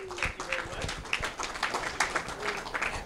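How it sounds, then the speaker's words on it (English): An audience at a Minnesota Civil War commemoration panel discussion applauds the panelists, a moderately quiet, dense patter of many hands with a few sharper claps and some voices mixed in. "give our panelists a big, warm thank you applause"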